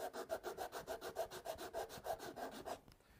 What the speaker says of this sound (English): you can sand the end grain